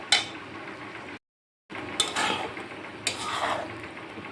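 Kachur loti being stirred in a pot with the lid lifted, giving a few scraping, clattering bursts separated by a brief silent gap, close and moderately loud with no talking.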